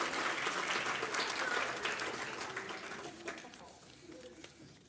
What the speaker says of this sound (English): Let's give another round of applause for Anu, the executive director.